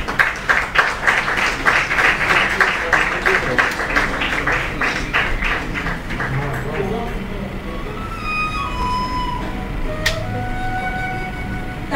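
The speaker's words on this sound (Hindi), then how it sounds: "तालियों की गड़गड़ाहट के साथ मुक्ता नयन जी का स्वागत हो" Audience applause welcoming an award recipient at the Devi Awards 2023 ceremony, strong rhythmic clapping for about six seconds that fades into room noise and faint background tones.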